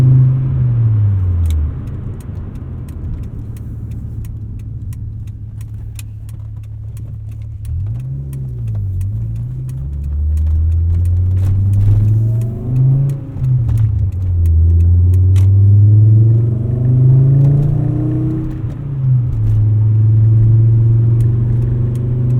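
A 1997 Volvo 850 R with a 5-speed manual hums close up, then revs and accelerates through several gear changes, pitch sweeping up and dropping repeatedly, a steady rumble underneath.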